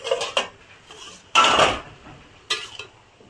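A metal lid clatters against a cooking pot of vegetables, a bottle-gourd dish nearly done: a few sharp knocks, a louder scraping lift, then one more clank, close and isolated in a quiet kitchen.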